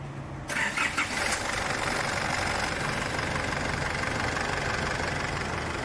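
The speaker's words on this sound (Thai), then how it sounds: "สตาร์ทเครื่องนี่ครับ" A low-mileage, lifted four-door Isuzu pickup truck cranks and its engine catches about half a second in, then settles into a steady, loud idle close by with no talking.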